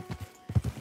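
Horse hooves clip-clopping in Red Dead Redemption 2, a few quick, close hoof strikes in a short burst.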